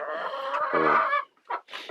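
Domestic hens recovering from a respiratory illness, loud close clucking and drawn-out squawks, followed by short breathy calls after a brief pause.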